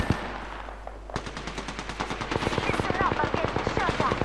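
Rapid automatic gunfire in a video game, a fast string of evenly spaced loud shots lasting several seconds after a brief quieter stretch, with players' voices talking over the action.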